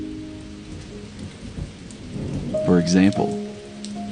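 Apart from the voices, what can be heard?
rain falling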